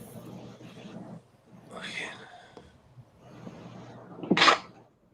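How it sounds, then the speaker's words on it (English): A single sharp sneeze bursts out near the end, following soft, muffled talking and whispering. "I hate sneezing"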